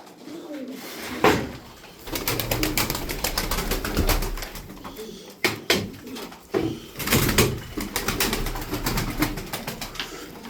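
Tumbler pigeons coo close by while birds are handled in a loft or market, mixed with rustling, wing flaps and knocks of cages or a sliding door.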